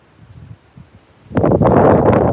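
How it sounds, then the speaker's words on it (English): A quiet, faintly rustling lull gives way to a sudden loud swell of breeze through leaves before a storm, holding steady to the end. "it's been this pretty steady breeze going on right now"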